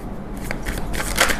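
Tarot cards shuffled and drawn by hand: soft riffling and flicking of card stock with a few crisp slaps. The sound is close and moderately loud, with no voices.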